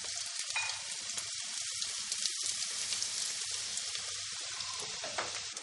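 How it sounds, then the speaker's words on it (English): Prosciutto crisping in a pan of hot olive oil gives a steady, close sizzle with fine crackling that holds evenly throughout, with no talking. "I've just heated a little bit of olive oil, and I'm going to put this in here till it gets, fry it till it gets nice and crispy"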